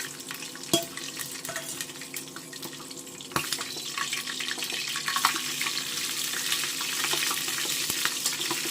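Curry leaves hit hot oil in a pan for green biryani, making a steady close sizzle with scattered crackles and pops that build and hold throughout.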